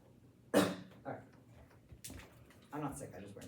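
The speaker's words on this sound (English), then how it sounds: "Sorry, I coughed." A single sharp, close cough bursts out during a competitive debate round, followed by softer throat and voice sounds in a quiet indoor room.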